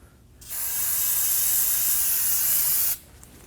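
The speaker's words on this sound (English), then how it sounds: "Now we're gonna go ahead and use some brake parts cleaner." Brake parts cleaner sprayed onto a front brake caliper of a Nissan Armada: one steady, loud aerosol hiss lasting about two and a half seconds, starting and stopping abruptly, with no talk.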